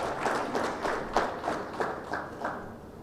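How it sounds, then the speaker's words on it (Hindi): Audience applause at an awards ceremony, fairly soft and distant, with a loose pulse of clapping bursts spread across the crowd rather than a roar. "मैं चाहूँगा आप एक बार तालियों से इनका सम्मान करें।"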